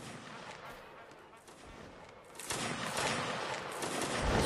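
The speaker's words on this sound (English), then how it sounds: "As more fire is coming in." Volleys of musket fire crackle through a Napoleonic line battle in the video game Mount & Blade: Napoleonic Wars, a dense rolling rattle that swells louder in the second half, with a voice talking over it.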